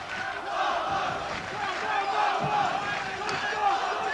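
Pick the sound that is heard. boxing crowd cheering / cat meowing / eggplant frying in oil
boxing crowd cheering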